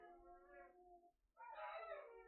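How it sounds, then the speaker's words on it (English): A husky makes long, drawn-out howling and whining vocalisations close to the microphone, one sustained cry fading out and then a louder rising howl after a brief pause, with no talking. "Sorry, the dog is barking."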